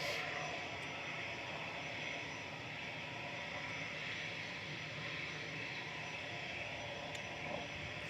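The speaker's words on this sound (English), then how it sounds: "Oh, the A380 is pushing back" An Airbus A380 pushing back at Manchester Airport, its engines giving a steady, fairly faint jet roar that holds level throughout, heard from a distance with no talking.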